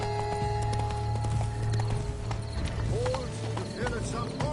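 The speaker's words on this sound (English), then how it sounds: "You're better off on horseback." Horse hooves clip-clop in a rapid galloping rhythm in The Witcher 3, a steady, close patter with a brief voice surfacing partway through.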